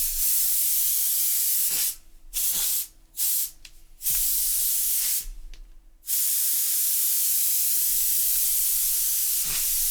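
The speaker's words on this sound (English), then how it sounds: "Where'd that compressed air can go?" A can of compressed air sprayed during papercraft cosplay work, several loud, close hissing bursts of varying length, some very short and others around a second, separated by quiet gaps, with no talking.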